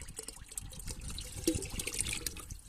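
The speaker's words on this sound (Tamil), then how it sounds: "இதை நான் இப்போ ஒரு 5 லிட்டர் தண்ணியில் கலக்க போகிறேன்" Soaked curd and coconut milk being mixed into 5 litres of water, a close, irregular sloshing and splashing of liquid that continues unbroken with no voices.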